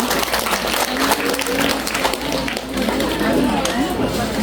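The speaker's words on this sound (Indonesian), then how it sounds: "tepuk tangan untuk Laude Abraham." A crowd claps steadily in sustained applause at a school graduation ceremony, with a voice speaking faintly underneath.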